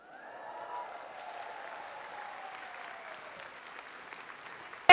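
Audience applause at a Finnish healthcare-sector closing seminar, a steady wash of clapping from a hall crowd that holds evenly for about five seconds before a sharp loud knock at the very end.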